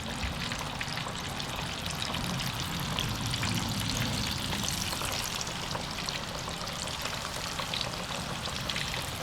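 Meat from a wild hog sizzles steadily in grease in a pan, a dense, even crackle with watery hiss that holds at a constant level throughout, with no talking.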